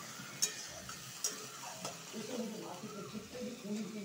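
A cumin and coriander paste fries in a pan, giving a soft, steady sizzle with a couple of sharp clicks and light stirring scrapes, all fairly quiet.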